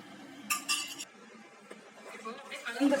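A utensil clinks and scrapes against a bowl while bajji batter with chili powder, baking powder and salt is mixed, giving a few bright close knocks and softer stirring sounds, with brief speech near the end.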